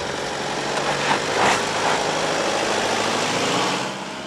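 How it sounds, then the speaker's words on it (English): An Isuzu D-Max ute's engine pulls up a hill in low gear, a loud, steady drone held at gently rising revs, with wind and road rumble and no talking. "Going up the same hill, lock ourselves in the groove, gently increase the engine speed"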